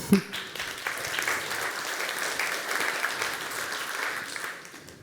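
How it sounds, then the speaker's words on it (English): An audience at an airline industry summit applauds steadily for several seconds, a moderate, even wash of clapping in a large hall. "round of applause to ATPCO"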